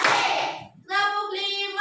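Children in a primary-school classroom clap along to a counting chant, a short burst of claps followed by voices chanting the next count.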